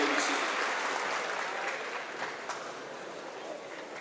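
An audience applauds students at a high school AP academic assembly, with steady, dense clapping that starts strong and tapers slightly over several seconds, filling the hall with no speech over it.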